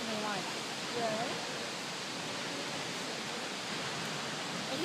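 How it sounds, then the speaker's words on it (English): A big waterfall roars as a continuous broadband rush of crashing water, loud and close, with a faint voice briefly audible above the steady wash. "If you're down there, you get smashed by that big waterfall."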